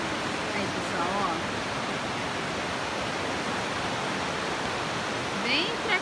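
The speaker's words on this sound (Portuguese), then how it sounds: "Bem fraquinha as ondas." Soft, steady wash of gentle waves rolling onto an empty beach at Ubatuba, Brazil, a continuous hiss with no breaks and faint bird chirps now and then.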